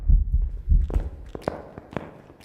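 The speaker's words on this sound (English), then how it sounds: "Our heartbeat is also a little bit louder than normal." Heartbeat in the horror game Phasmophobia, louder than normal: a few deep, thudding double beats up close, followed by fainter scattered knocks and clicks.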